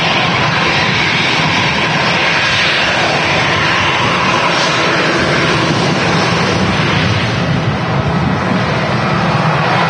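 Airliner jet engines roaring at Manchester Airport, an Albastar aircraft in view, a loud steady broadband rumble and hiss that holds evenly throughout with no talk.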